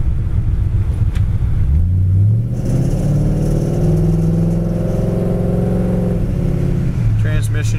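A 1968 Ford Mustang pulls away and accelerates down the road, its mid-pitched engine rising in a loud climb before easing off and revving again near the end.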